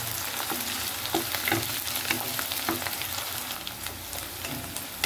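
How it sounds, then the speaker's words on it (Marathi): Seven or eight garlic cloves fry in hot oil in a pan, a dense continuous sizzle with soft crackles and light stirring scrapes throughout. "थोडा लाल कलर होईपर्यंत त्याला फ्राय करणार"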